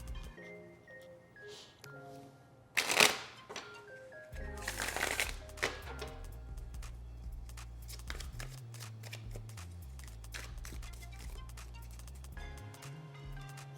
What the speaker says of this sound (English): One more good shuffle for measure.